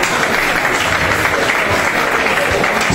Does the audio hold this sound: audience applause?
yes